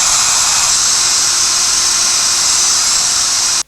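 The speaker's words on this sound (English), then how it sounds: "all I've got to do now is just drill straight through this on each of my drawers." A high-pitched power drill whines steadily as it bores through MDF board for drawers, a constant hissing grind for a few seconds before cutting off abruptly.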